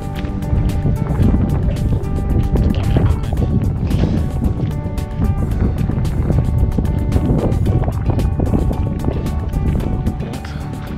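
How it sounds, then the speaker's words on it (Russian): Strong wind blowing outdoors on a cloudy day in Baikonur's 5th microdistrict, a loud, steady gusting rumble that fills the whole stretch with no letup. "Сегодня в Байконуре ветрено у нас,"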